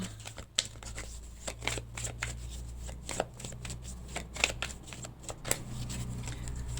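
A deck of tarot cards being cut and shuffled by hand, a run of crisp riffling flutters and soft taps close up, quiet and irregular.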